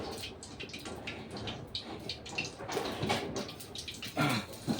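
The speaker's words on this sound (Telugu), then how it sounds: "చికెన్ బాగా నీట్గా కడుక్కోవాలి." Raw chicken being washed by hand under running water, a steady splashing rush with irregular bursts as the pieces are turned, close and fairly quiet, no talking.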